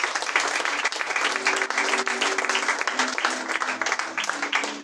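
A church congregation bursts into loud, sustained applause, a dense steady clapping from many hands that fills the room for several seconds, with faint voices underneath.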